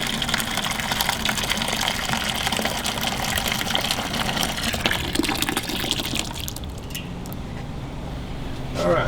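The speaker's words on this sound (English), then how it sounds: "the water that is from the bottom here, taking it out and putting it back in" Wort drained from beneath the false bottom of a homebrew mash tun and poured back over the grains, a continuous splashing pour of liquid that thins after about six seconds, with a faint voice underneath.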